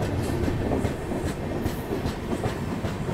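Express passenger train rolling through Arrah railway station in Bihar, a steady loud rumble of wheels and carriages with faint rhythmic clacking throughout, heard from inside the moving train.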